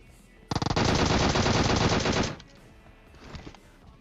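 An Uzi in the mobile battle royale game PUBG Mobile fires one sustained automatic burst of rapid rounds lasting about two seconds, loud and close, followed by quieter scattered sounds.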